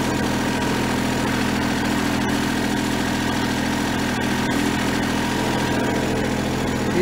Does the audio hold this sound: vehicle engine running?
yes